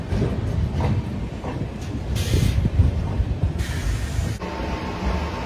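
A Janshatabdi Express on the Chennai to Vijayawada run rolls on just after leaving New Guntur, giving a steady, continuous rumble and rattle of the carriages, heard from inside with no talking.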